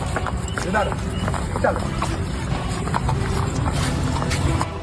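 A horse moves outside a house in Patna, with hoof sounds mixed into constant street noise and a steady background voice running over the whole stretch.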